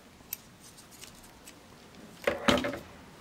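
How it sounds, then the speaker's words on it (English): Scissors snip the selvage edge off fabric strips: faint light clicks at first, then two louder, crisp cuts close together near the end. "I just take my scissors at this point or a rotary cutter and clip that off."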